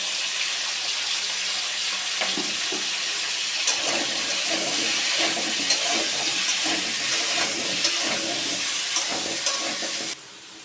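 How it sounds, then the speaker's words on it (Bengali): Potatoes fry in a pan in a home kitchen, a steady close sizzle with occasional scraping and stirring, continuing alone until it suddenly drops away at the end. "আলুগুলো লাল লাল করে ভাজা হয়ে গেছে"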